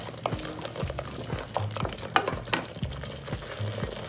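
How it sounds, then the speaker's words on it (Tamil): Spiced rajma masala with chilli, turmeric and a little sugar being stirred in a frying pan, giving a steady sizzle with repeated scraping strokes of the spoon at a close, moderate level and no talk. "போட்டு நல்லா கிளறி விடுங்க."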